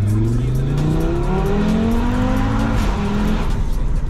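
A very loud decatted exhaust with upgraded downpipe on a 550 bhp 2018 Audi RS3 revs and accelerates, its rising engine tones sweeping upward in successive pulls, harsh and raspy close by.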